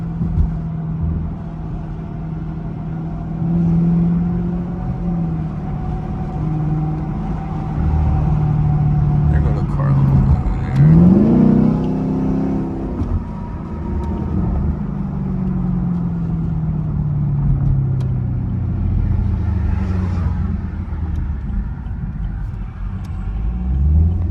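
A sports car engine, compared to an LT1, accelerating under partial throttle, a loud low rumble that rises and sweeps in pitch around the middle, then settles to a steady drone as the car keeps moving.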